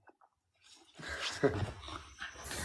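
Dog whimpering near a boat in a fishing setting, a short soft whine that rises into a breathy, snuffling burst and trails off, close and fairly quiet with no talk over it.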